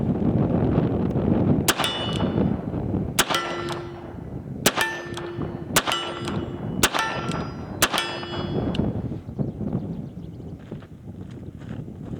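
A 1979 Colt Python revolver firing .38 Special rounds outdoors, six sharp loud shots spaced about a second apart with ringing metallic tails, over steady wind noise.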